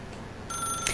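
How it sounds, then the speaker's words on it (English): An analog telephone with a power cord rings in a video game, its bright electronic trill starting abruptly halfway through and continuing steadily, clear and fairly close. "How can it be calling me if it's not a phone line?"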